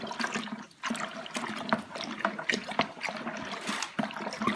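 Pink Pinot Grigio wine kit must, topped up with cold water, being stirred: continuous close sloshing and swirling of liquid with irregular splashy surges, no voices.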